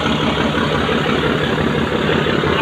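Passenger launch engine running at a Dhaka ferry terminal before departure for Patuakhali, a steady loud broadband drone with a low throb, continuous and without talk.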